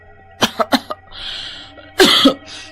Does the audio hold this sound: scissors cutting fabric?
no